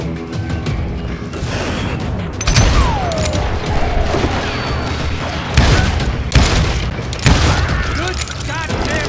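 Rapid gunfire from the Western shooter game Call of Juarez Gunslinger: repeated loud shots and booming blasts in bursts, with a voice briefly mixed in among them.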